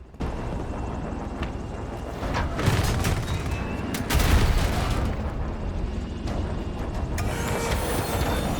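Loud video-game combat: dense, continuous gunfire with heavy booming bomb explosions rolling through, big blasts near the middle, as enemy vehicles are attacked from the air.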